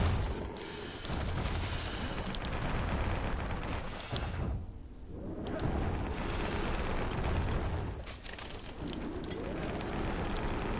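Grenade blasts and heavy combat noise from the game Bastion roar in dense, loud bursts, dipping briefly midway before surging again, with crackling mechanical clatter throughout.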